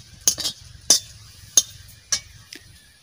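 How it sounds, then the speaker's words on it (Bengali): Fish frying in a pan: a utensil scrapes and clinks against the pan in about five short, sharp bursts, over a faint sizzle and low background rumble. "বন্ধুরা, মাছ ভাজা করছি"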